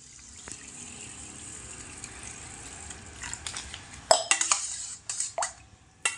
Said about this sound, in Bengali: এবার আমি চালের মধ্যে পরিমাণ মতো ঠান্ডা জল ঢেলে দেব।